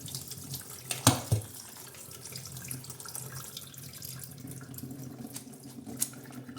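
Cold tap water running steadily over vermicelli being rinsed in a sink, a continuous close splashing stream with a couple of sharper splashes near the start.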